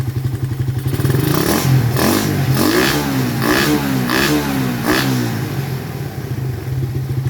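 A Raider 150 motorcycle fitted with a KOSO Evo 30mm carburetor idles loudly up close, then is revved several times in quick rising bursts before settling back to a lumpy idle.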